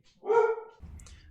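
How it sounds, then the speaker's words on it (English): A single close bark from a friend's dog, loud and brief, followed by a low rumbling background noise. "So, sorry about any barking,"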